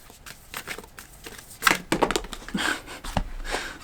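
Tarot cards being shuffled by hand, a run of crisp papery riffles and slaps with a couple of sharper flicks as cards fly out, close and moderately loud with no talk.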